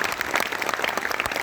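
Audience applause at a Holi kavi sammelan poetry gathering, a dense, steady wash of many hands clapping together, moderately loud and sustained through the brief moment with no voices over it.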